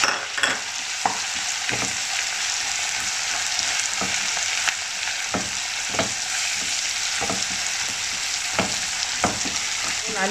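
Chopped ginger and garlic fry in hot oil for lemon pickle, a loud steady sizzle running throughout with regular clicks and scrapes of a stirring spoon against the pan, close up and with no voices.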